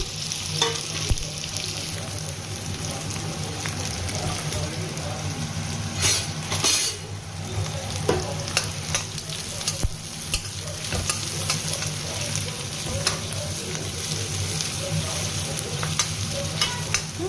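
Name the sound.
onions frying in hot oil with cumin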